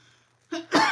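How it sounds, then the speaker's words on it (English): A single harsh cough, a short rough burst followed by a louder explosive one, close to the listener. "I have a cough."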